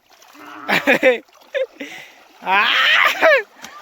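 Water splashes in short bursts during an outdoor bath in the sun, a child playing in the water, with louder sustained splashing near the end and a voice talking over parts of it.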